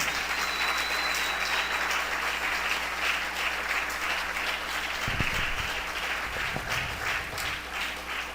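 Church congregation applauding together, steady dense clapping throughout with no talk over it.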